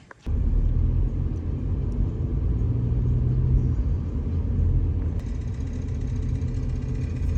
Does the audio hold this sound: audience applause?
no